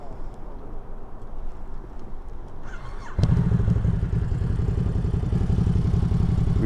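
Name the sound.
motorcycle riding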